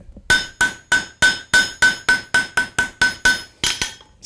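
A hammer strikes a steel barbecue spoon on an anvil during forging, about a dozen sharp ringing metallic blows at a steady, even rhythm, loud and close with no talk.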